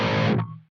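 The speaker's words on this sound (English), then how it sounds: "I'm going to start you off on my rhythm patch." A single distorted electric guitar chord through a Line 6 Helix rhythm patch on a PV Vitriol lead amp model, loud and saturated, cut off abruptly after under half a second with a brief low ring-out.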